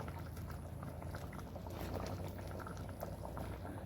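A taro flower curry bubbles hard in a pot, a dense, continuous rolling boil with popping bubbles and liquid churning, close and steady throughout with no talking.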